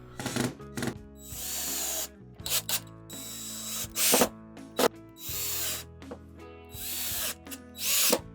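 Power drill driving screws into a board while mounting a Dremel machine-gun build: several short, loud whirring bursts separated by pauses, close up, with no talk.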